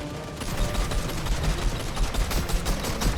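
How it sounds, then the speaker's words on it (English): Video game gunfire crackles in dense, rapid bursts, a continuous fusillade of overlapping shots that stays loud and close throughout. "Wait, was I shooting the mountain right there?"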